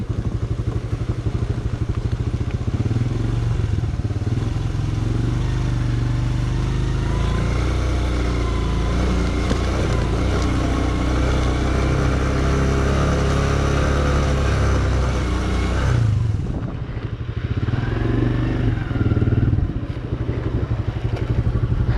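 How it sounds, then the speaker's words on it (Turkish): A motorcycle engine roars loudly and continuously nearby, its rough drone building before dropping off sharply as it speeds past. "hızlı motosiklet geliyor."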